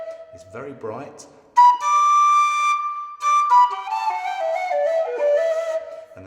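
Bright, piercing whistle notes from a Chieftain V4 whistle ring out, holding a high tone before descending step by step in a short melodic run, close and loud.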